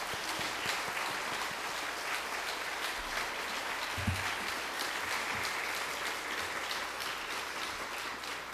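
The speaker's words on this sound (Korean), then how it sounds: "이제 목사님 나오실 때 여러분 뜨거운 박수로 환영해 주시면 고맙겠습니다" Congregation at a 2013 Sunday afternoon church service giving warm applause to welcome the pastor, a thick, even roar of many hands clapping that holds steady without pause.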